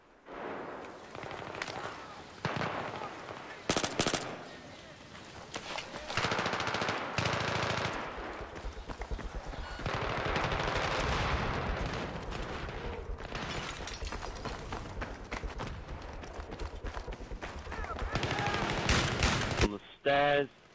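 Bursts of automatic gunfire and single shots from the online shooter game Close Quarters, on the Donya Fortress map, fire near and loud in rapid rattling volleys across the whole stretch, with a player's voice talking over parts of it.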